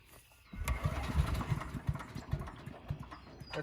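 Small garden engine on choke cranking and catching, a close burst of rough, uneven firing pulses that settles into a ragged idle.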